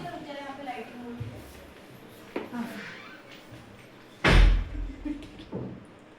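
A door slams shut loudly once amid a noisy, crowded room, with people chattering and shouting before and after the bang.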